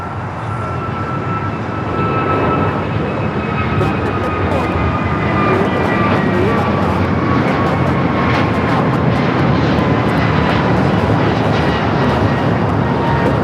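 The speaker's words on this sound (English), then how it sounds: "American Airlines 2023 taking off to Charlotte on the A321neo." An American Airlines Airbus A321neo airliner takes off at LAX, bound for Charlotte, making a steady, loud engine roar with a rising whine that holds for the whole stretch, with no talk over it.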